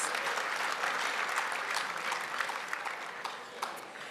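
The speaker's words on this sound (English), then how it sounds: "Let's give them all a round of applause" An awards gala audience claps for the winners, a full, steady round of applause with a few sharper individual claps standing out as it gradually thins.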